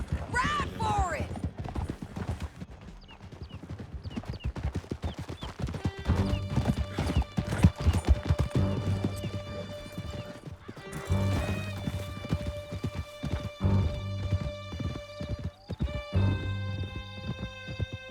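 Horses gallop in Red Dead Redemption 2 with rapid, dense clip-clop hoofbeats and loud neighs and whinnies. Music and voices sound alongside the hooves.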